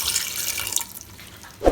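Water splashes and runs steadily from a tap into a pressure cooker holding spices, close and hissy, ending with a brief louder splash.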